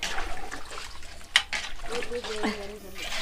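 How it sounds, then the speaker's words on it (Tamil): Water, saved from washing rice, splashes and trickles into a pot of village-style country chicken curry, with a sharp clink partway through and a faint tone near the end. "இப்போ தண்ணி சேர்த்துட்டோம்."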